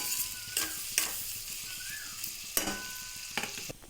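Onion pieces frying with salt in a pan for an egg curry, a continuous sizzle punctuated by repeated spatula scrapes and knocks as they are stirred up close.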